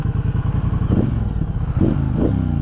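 A 2021 Triumph Speedmaster cruiser motorcycle engine idles with a loud, close, lumpy thrum and is blipped twice, the revs rising briefly before settling back.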